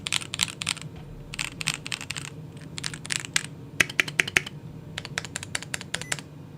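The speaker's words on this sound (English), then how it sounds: "If I bring it up to the mic, this is what this keyboard sounds like." Typing on a GMK67 mechanical keyboard held close to the mic, rapid bursts of crisp clacking keystrokes in irregular clusters with brief pauses, fairly quiet and alone.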